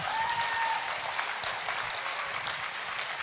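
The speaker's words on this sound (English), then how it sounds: "our dear Brahmarshi Patriji, let us give a huge round of applause" An audience gives a round of applause at a live spiritual wisdom session, a steady, dense patter of many hands clapping close and continuous throughout, with no talking over it.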